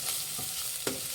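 Cumin, pepper and crushed garlic frying in oil for a quick rasam, a steady soft hiss with a couple of brief stirring scrapes, close and fairly quiet with no voices.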